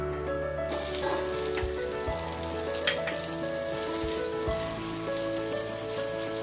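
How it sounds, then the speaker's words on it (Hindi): Two teaspoons of butter melting in a hot pan, a soft continuous sizzle with a steady background hum, fairly quiet and uninterrupted. "पैन में डालेंगे ये 2 टीस्पून बटर,"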